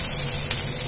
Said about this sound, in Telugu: కొంచెం వేగిన తర్వాత ధనియాలు